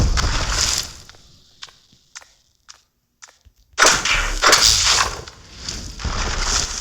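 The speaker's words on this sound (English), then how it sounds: "Why is he continuously shooting stuff at me?" Video game gunfire arrives in short bursts: a loud volley at the start, scattered sharp single shots through a quieter middle, then another heavy stretch of rapid, crackling shots toward the end, with no speech.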